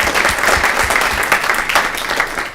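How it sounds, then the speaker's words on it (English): Audience applause at a student government association meeting, a loud, dense burst of clapping from a roomful of people, steady throughout and close by. "just take a moment to kind of applaud them just a little bit"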